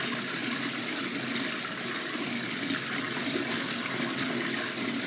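Bath water pours steadily from the tap into a tub, churning up bubbles with a constant, close, full-bodied rushing splash that holds unchanged throughout.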